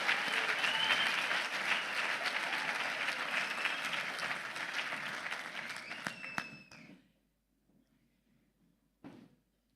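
Audience applause at a graduation ceremony, full and sustained before tapering off abruptly into near silence, followed by a single brief knock or bump.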